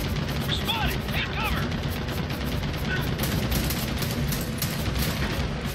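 A machine gun nest fires in the Gears of War 4 video game, a steady stream of rapid gunfire that holds the whole stretch under brief shouted voices.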